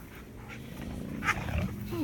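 Dogs playing outdoors in a garden, giving low growls and rough vocal noises close by, with a louder bark-like burst near the end over steady outdoor background.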